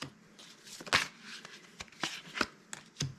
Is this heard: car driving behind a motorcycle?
no